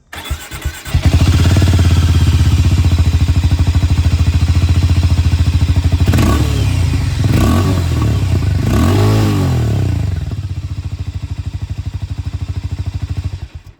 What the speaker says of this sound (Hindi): जो एग्जॉस्ट साउंड है ये भी मैं आप लोगों को यहाँ पर बिल्कुल एक बार सुनाना चाहूँगा